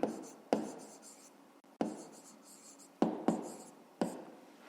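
A pen writes on paper close up in several short scratchy strokes, each starting sharply and fading, with brief gaps between them.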